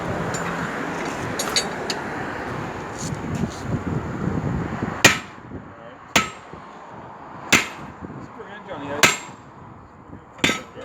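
A hammer drives a chisel to remove a truck tyre at an off-road tyre shop, giving five sharp metallic strikes about a second apart. Background traffic-like rumble and murmuring voices come before the blows.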